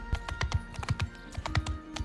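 Horse hooves walking in Mount & Blade II: Bannerlord, a quick series of distinct, close clip-clop thuds in an uneven rhythm, with a faint steady hum beneath and no speech.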